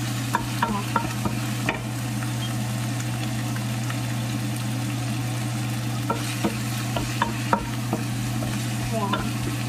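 Pancit noodles stirred in a pan with a steady sizzle, scattered scraping clicks of the utensil and a constant low hum underneath, close and loud with no speech.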